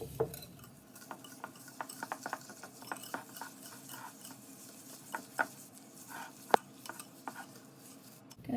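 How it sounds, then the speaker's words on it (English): Cookie batter whisked in a bowl, quiet rhythmic scraping and clicking taps of the whisk against the bowl, soft and close with a few sharper knocks. "Going to whisk until smooth."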